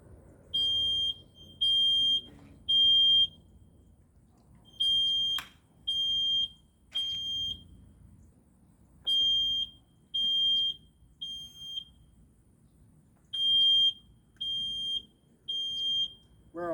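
A smoke detector sounds during a training fire, its high piercing beeps coming in repeated triplets of short loud tones with pauses between groups, alone over a faint low rumble of the burning room.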